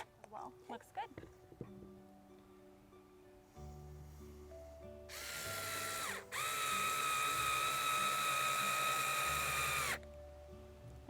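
A power drill runs in two sustained bursts while the roof is fastened to the back of a wooden nest box, preceded by some tapping and handling noises in a quiet room.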